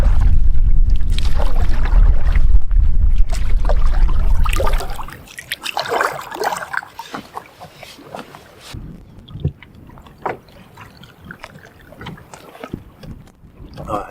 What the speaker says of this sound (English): I'm paddling into a headwind again.